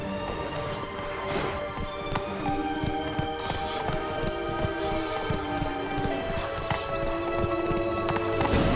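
Horse hooves gallop in The Witcher 3: Wild Hunt, Blood and Wine, a steady, loud clip-clop rhythm pounding throughout under music and ambient game sound.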